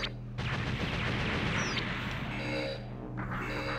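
Gun batteries fire shells in Mobile Suit Gundam: Zeonic Front, a dense barrage of booming blasts and crackling impacts with a brief whistling streak amid the rumble.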